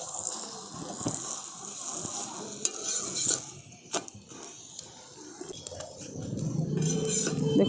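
Pumpkin paratha frying in oil in a pan, with a steady close sizzle, scraping and stirring sounds, and occasional clinks of a utensil against the pan.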